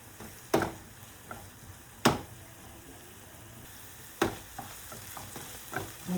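Onions frying in a pan for chui pitha: a continuous crackling sizzle with intermittent sharp scrapes and clinks of a utensil stirring against the pan, close and fairly loud.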